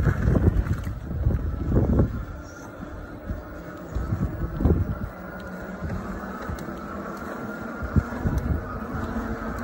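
Wind gusting across the microphone during an e-bike ride, a continuous broadband roar with louder buffeting bursts rising and falling throughout, fairly close and loud, with no voices.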